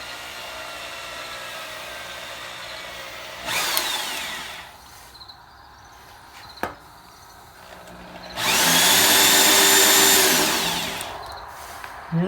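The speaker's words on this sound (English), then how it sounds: "Make sure the drill's going the right way first," Power drill boring a hole through a timber frame joint, two whirring bursts of drilling separated by a quieter stretch and a sharp click, loud and close with steady background hum.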